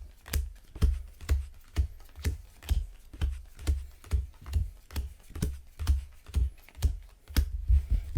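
Disney Lorcana cards are table shuffled, slapping and scraping across a table in a steady rhythm, about twice a second, close and clear with no talking.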